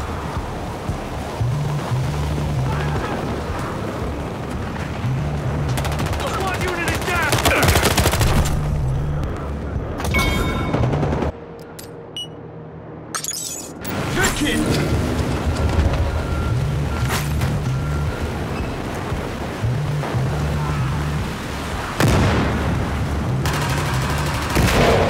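Rapid bursts of heavy gunfire from an SUV-mounted gun in Battlefield Hardline, loud and sustained across most of the stretch with a brief lull in the middle, layered over rumbling game ambience.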